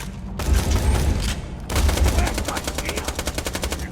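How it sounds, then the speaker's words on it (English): In Borderlands, an SMG fires in rapid full-auto bursts, loud and close, with a brief pause before a final long stream of evenly spaced shots rattling off quickly. "I like this SMG."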